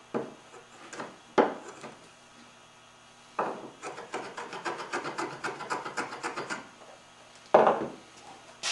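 Hand-tool trimming on the end of a curly maple tenon: short rasping strokes in quick succession, fairly close and soft, with a few louder scrapes and bumps between pauses.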